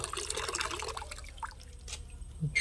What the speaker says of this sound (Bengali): বালতিটা ভর্তি হয়ে গিয়েছে